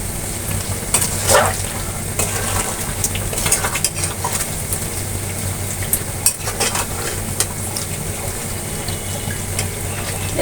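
Chunks of meat sizzle and bubble in rendered fat while being cooked down for a meat pickle, a loud, close crackle broken by scraping stirs of a utensil against the pan and occasional clinks.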